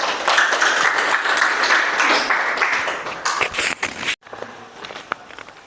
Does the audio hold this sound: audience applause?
yes